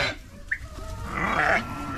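A sheep bleats on a family sheep farm in Negrilești, Bistrița-Năsaud, where lambs and ewes are kept. One wavering bleat rises over a busy, noisy background of farm sounds.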